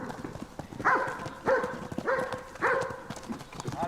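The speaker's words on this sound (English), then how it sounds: "Here the focus is on ponies, on Konix to be exact." Konik ponies at a Polish nature reserve: a run of close hoof clip-clops with sharp little knocks, mixed with repeated short, tonal animal calls at an even pace.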